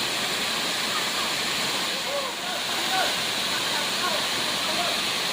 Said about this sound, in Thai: น้ำตกตาดยองธรรมชาติ